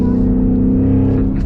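A Ford Mustang with an MT-82 manual gearbox and MGW shifter drops a gear and accelerates, a loud, steady engine drone with a strong low rumble filling the cabin, heard alone without talk.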